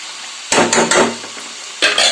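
Chopped spring onion greens are stirred into cooked toor dal, making a few loud, close scraping strokes against the pot in two short bursts with a brief pause between them.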